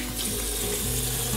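Steady, close stream of water runs from a bathroom tap to rinse soap off a moustache, an even rushing splash with no talking.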